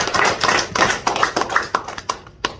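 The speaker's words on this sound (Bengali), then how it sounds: "তাহলে একটা জোরে তালি সবাই।" A seminar audience claps together in a dense burst of hand claps that carries on for a couple of seconds and then thins out and fades, with no talking over it.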